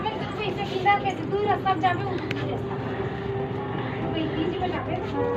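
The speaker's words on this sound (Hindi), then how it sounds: "अब अभी ट्रेन की आवाज आते" A train rumbles past steadily near the Bagbahara railway crossing, heard at a moderate distance with outdoor background noise throughout.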